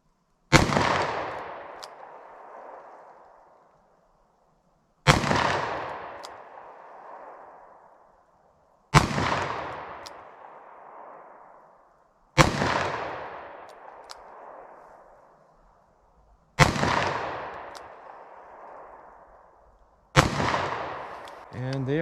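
Six loud gunshots from a Taurus 856 .38 Special revolver with a 3-inch barrel, fired single action at a target; sharp cracks spaced about four seconds apart, each ringing out into a long decaying tail.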